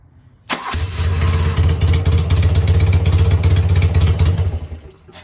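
A BMW R80/7 boxer-twin motorcycle engine, a scrambler-style build, catches with a sudden start and runs at a steady, loud close-up idle for several seconds before abruptly shutting off when the ignition is cut.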